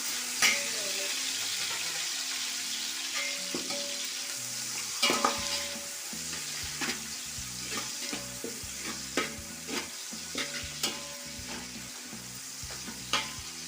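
Chicken frying with ground masala for biryani, a dense bright sizzle close up with repeated spatula stirring scrapes and clinks against the pan, no voices.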